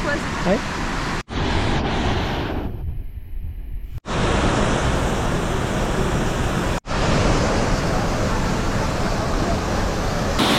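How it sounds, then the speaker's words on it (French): Constant rushing roar of a waterfall in Costa Rica, broad and loud, briefly dipping and cutting out a few times as if the recording was interrupted. "Et ah, je vois la cascade."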